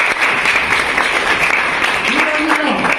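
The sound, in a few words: audience applause for the foundation's service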